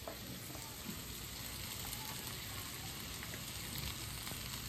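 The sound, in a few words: onion frying in a pan for poha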